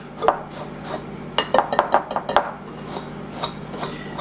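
A cauliflower mixture is stirred by hand in a bowl, a spoon clinking and scraping against the sides in a quick cluster of close, sharp knocks with softer scrapes before and after.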